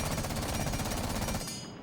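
Rapid automatic gunfire from Twitch's weapon in Rainbow Six Siege, a dense, loud stream of shots that rattles on for most of the burst before tailing off.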